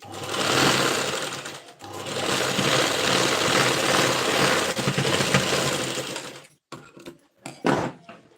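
A sewing machine runs steadily for about six seconds while stitching the front princess-cut panel of a size 34 blouse, then stops, leaving a few short clicks and handling sounds.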